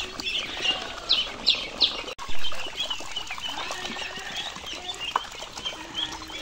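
Ducklings peep in quick high bursts, a few clustered chirps standing out near the start, then a busy chorus of thin calls over steady background noise through the rest.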